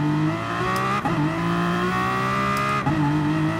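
Engine of an 800hp Aston Martin concept race car in GT Sport, droning loud and steady at high revs with a couple of brief dips as gears shift, alone with no talk.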